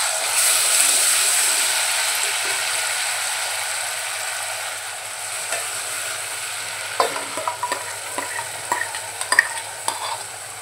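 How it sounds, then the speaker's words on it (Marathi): Onion-coconut paste stir-fried in oil for misal, a strong continuous sizzle that settles into a softer fry, then spoon scrapes and clicks against the pan toward the end. "आणि छान तेल सुटेपर्यंत परतवून घेऊया।"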